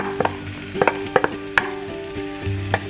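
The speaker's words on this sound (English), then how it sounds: "I'm just gonna use it to add all this onion just to heat it up." Chopped onion heating in an already-used frying pan sizzles softly under a steady hum, broken by a series of sharp scraping taps as it is stirred.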